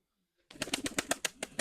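A tumbler pigeon's wings beat in a quick burst of about nine close, loud claps after a short silence, with no voices.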